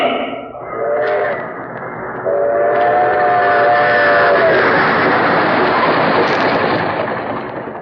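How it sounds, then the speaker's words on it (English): An old-time radio drama's train sound effect of a train rushing toward Grand Central Station: a steady, loud roaring rumble with clear whistle-like horn tones sounding near the start, continuing as a sustained rushing noise with no talk. "great trains rush toward the Hudson River"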